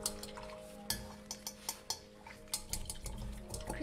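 A paintbrush is rinsed in a water cup while painting a wine glass, giving faint swishing and repeated light clinks against the container in a quiet room.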